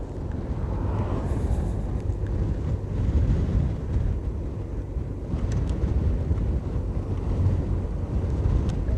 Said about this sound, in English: these two riders head into a heavy headwind